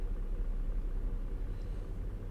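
A Cummins truck engine in a trucking video game rumbles low and steady, quiet and unchanging throughout, with no talk over it.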